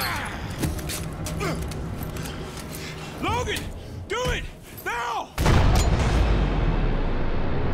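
A powerful gun in Call of Duty: Ghosts fires several heavy, booming shots with ringing echoes, then a big blast, with talk running over it.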